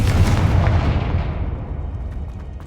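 A Confringo fire spell blast in Hogwarts Legacy on Xbox Series X lands as one loud, booming burst, then a long rumbling decay that fades over about three seconds with no voices.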